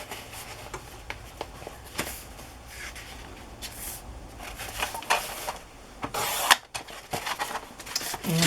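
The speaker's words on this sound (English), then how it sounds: "Now I can open this up and trim this top edge so that it will be straight." Wallpaper being trimmed while making a handmade envelope, heard close as soft rubbing and scraping strokes with small rustles and taps of paper, growing busier and louder toward the end, with no talk.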